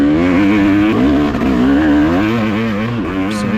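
An enduro dirt bike engine under riding load, buzzing and revving close-up with a rising and falling pitch and a brief dip and recovery, loud throughout and with no talking.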